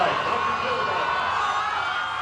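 A large, ecstatic crowd cheers along Pennsylvania Avenue during a presidential inaugural parade, a steady, dense roar of voices and whoops sustained at even loudness throughout.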